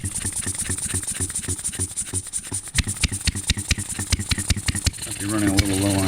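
A Nanzy upright air-cooled hit-and-miss model engine is started and catches, with close, loud, irregular popping firing beats that settle into a steadier rapid chug toward the end.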